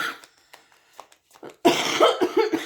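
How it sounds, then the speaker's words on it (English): A single person coughs, starting with a few quiet throat sounds and breaths, then a loud, close burst of several harsh coughs in quick succession. "Excuse me for coughing."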